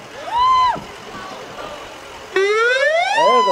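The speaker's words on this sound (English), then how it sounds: "I knew there was some siren." Rescue squad vehicle siren at an outdoor Christmas parade, loud rising and falling wails starting with a short whoop, then a longer sweeping tone close by amid crowd background.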